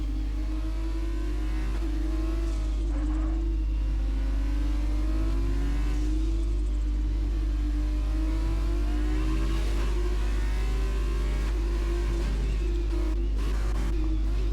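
Formula 2 race cars at speed on the Abu Dhabi track, a loud, steady engine tone rising and falling through gear changes and braking, continuous and close throughout.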